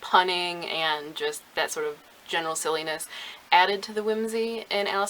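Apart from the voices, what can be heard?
No everyday noise stands out behind the speech.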